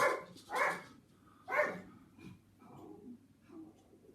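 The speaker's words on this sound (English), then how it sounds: "we'll finish with the dogs barking in the background" A few sharp dog barks in the background, spaced out over a few seconds, with quieter murmuring between them.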